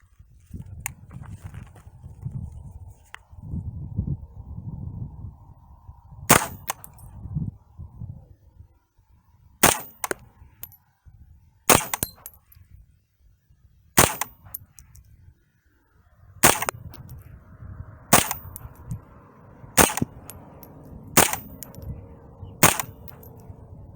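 A Smith and Wesson M&P 15-22 rifle fires a series of sharp, spaced single shots, some in quick pairs, with rustling, handling noise and low murmuring between them.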